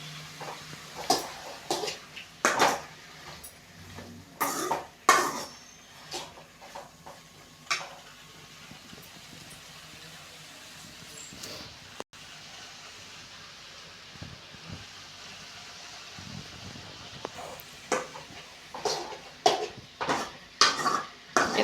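Radish sautéed on the stove, stirred in a pan with a utensil: irregular metallic scrapes and clinks come in scattered clusters over a faint background, quieter through the middle and busier near the start and end.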